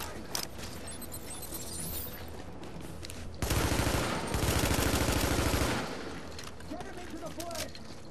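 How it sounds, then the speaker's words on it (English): Gunfire in the video game The Division, a dense loud automatic burst of a few seconds rising out of quieter scattered shots and game ambience, with a voice talking at times. "I'm about to run out of bullets for this gun."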